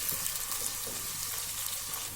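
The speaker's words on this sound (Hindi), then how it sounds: "ऑयल गर्म हो गया, अब इसमें हम ऑनियन ऐड कर देते हैं।" Chopped onions sizzling in hot oil in a pan for a daal mash tadka, a steady close hiss and crackle without pause or speech.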